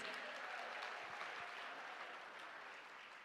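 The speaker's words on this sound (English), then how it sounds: "One more round of applause for our wonderful ladies." Audience applause at the Miss Chinatown Houston Scholarship Pageant, a dense, steady wash of many hands clapping that fades slightly toward the end, with no talking over it.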